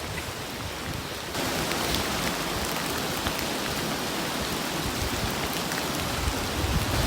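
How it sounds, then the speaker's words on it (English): Heavy rain pours down at a lakeside campsite during a thunderstorm on a canoe camping trip in Kejimkujik, a dense, steady hiss that jumps louder after the first second and continues without pause. "there's been a lot of thunder and lightning, so and still some pretty heavy rain, so we're going to wait it out here"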